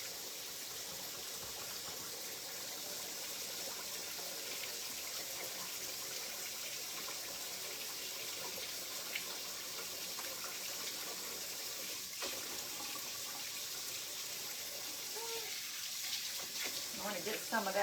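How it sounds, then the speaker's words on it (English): Tap water runs steadily into a kitchen sink while hands are washed beneath it, a constant close splashing hiss with small shifts as the hands move through the stream. "Let me wash my hands real quick"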